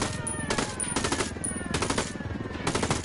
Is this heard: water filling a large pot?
no